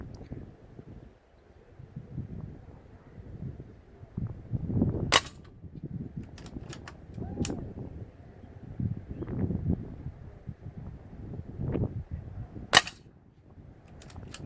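Two sharp, short pops from a Walther air rifle ring out some seconds apart, one midway and one near the end, over a steady outdoor wind rumble and faint rustling.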